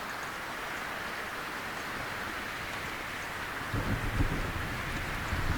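Storm at sea in the sailing game Sailwind: a steady wash of rain with a deeper rumble of thunder swelling in toward the end, continuous and fairly loud.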